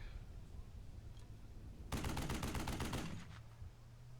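Burst of machine-gun fire from a mounted MG in the WWII tactical video game Burden of Command, a rapid rattling volley of about a second and a half breaking out over a low background hum.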